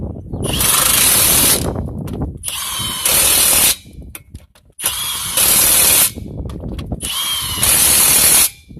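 A power tool torques wheel lug nuts on a 2001 GMC Yukon in four loud, close bursts of whirring and ratcheting, with short pauses between them.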